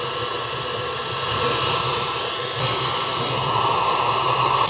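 An electric mixer creams peanut butter and butter into frosting, giving a steady, loud, continuous whirring drone that runs throughout without pause, and no voices are heard.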